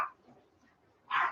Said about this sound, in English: Did you hear my dogs barking?